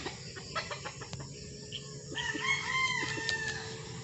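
A fighting gamecock crows a clear, drawn-out cock-a-doodle-doo in the second half, with scattered clucks and farmyard background noise before it.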